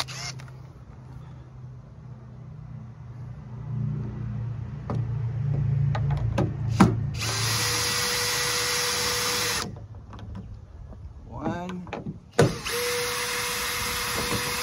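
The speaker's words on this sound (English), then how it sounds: "if I put this in my screw gun, it's rather convenient." Cordless screw gun spinning a 10mm socket on a 2012 Kia Sedona rear hatch, a steady close whirring run with clicks and brief stops, no talking.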